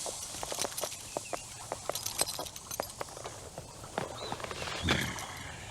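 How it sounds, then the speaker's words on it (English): Horse hooves clip-clop in a steady string of sharp, fairly close knocks, about two per second, over faint background noise. "Who left that horse there?"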